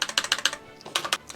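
Computer keys are tapped in quick, crisp clicks, about a dozen presses in two short bursts with a brief pause between, close to the listener and with no talk.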